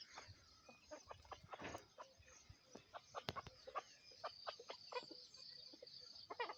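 A mother hen clucks as she walks about with her chicks on a farm after the first rain, soft repeated clucks and faint peeping scattered over a quiet outdoor background, fairly distant and low in level.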